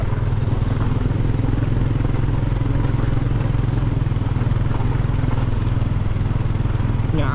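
A Yamaha NMAX motor scooter engine drones steadily and close throughout, a continuous mid-pitched hum with faint clatter and some background voices.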